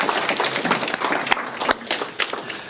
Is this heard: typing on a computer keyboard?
no